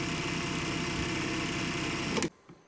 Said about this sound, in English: Oh, HyperTough is sounding kind of rough there.